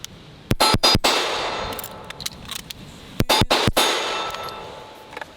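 Gunfire from a 2011 pistol fired outdoors: a quick burst of about four sharp shots near one second, then another tight string of about four shots near three and a half seconds, each crack loud and close with ringing decay.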